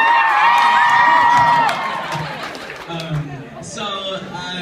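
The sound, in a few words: audience cheering at a live talk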